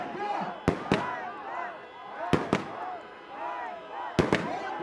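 Fireworks bangs go off in a street protest, pairs of sharp cracks repeating about every two seconds over a crowd shouting and chanting.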